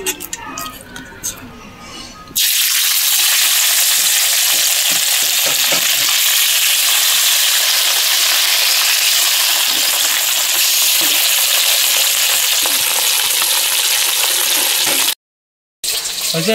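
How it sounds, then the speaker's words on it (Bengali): Fish rubbed with turmeric and salt frying in oil in a kadai, a loud steady broadband sizzle starting after a short lead-in and running continuously, briefly cut out near the end, with no talk over it. "এবারে কড়াইয়ে তেল দিয়ে মাছগুলো ভেজে নেব।"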